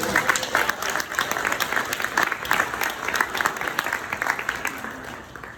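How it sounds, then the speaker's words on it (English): Sustained applause from an audience honoring fathers on Father's Day at a Juneteenth speech, a dense, steady wash of many hands clapping at full volume throughout with no break. "let's give all the fathers a big round of applause"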